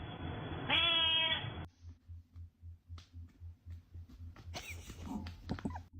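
Hairless cats meowing in a short clear burst near the start, followed by quieter rhythmic low thumping and scattered small noises.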